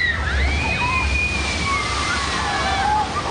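A boat on the Tutuki Splash water ride at PortAventura slides down into the water with a continuous loud rushing slosh and splash, with distant crowd voices and screams riding over the torrent.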